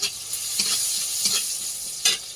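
Spices sizzle and crackle in hot oil as a tempering for plantain over a fiercely burning stove, a steady close frying hiss broken by a few sharp stirring scrapes.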